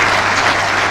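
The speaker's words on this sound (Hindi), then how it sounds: "तालियां आप सबकी तरफ से" Audience applause at a Jharkhand government health event, a dense steady wash of clapping filling the whole moment without a break.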